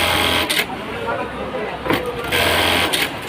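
An automatic button-attaching sewing machine runs in short mechanical bursts of whirring and clatter, several spurts separated by brief lulls, with a voice talking over it.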